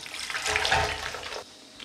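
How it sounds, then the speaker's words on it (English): Cider poured into a pot holding a ham, a short splashing liquid gush that tapers off within about two seconds. "So we'll add the cider"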